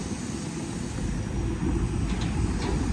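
A Sydney Oscar train pulls into platform 11 at Central Station, a continuous rumble of wheels and motors that swells slightly as it arrives, with no talk.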